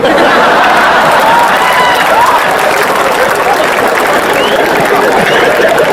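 A large audience at a Hindi comic poetry show claps steadily and loudly throughout, with scattered chatter and light laughter mixed into the dense applause.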